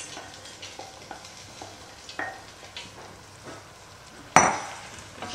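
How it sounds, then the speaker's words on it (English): A quinoa and mung bean mix for kitchari goes into a hot pan, giving a soft steady sizzle with scraping stirs and light clinks, and one sharp loud clatter near the end. "And then we'll just add in the quinoa mung bean mix."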